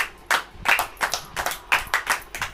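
A church congregation claps hands together at a Hindi Christian sermon, about seven sharp, rhythmic claps in a steady beat, close and fairly loud with no talking over them.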